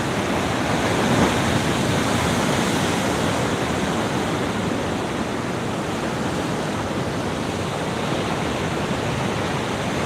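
Ocean swell waves crash continuously against a rocky coast near blowholes, a dense, steady roar of surf and rushing water with some wind, loud and unbroken throughout.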